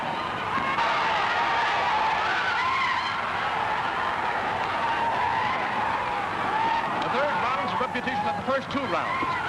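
An old car from a 1938 film engages and drives off, a loud, steady roar with tyre skidding that fills the whole stretch, with voices talking over it.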